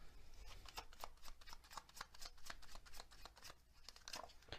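Tea leaf cards being shuffled and handled, a quick run of crisp riffling flicks and soft slaps, close and quiet, no talking.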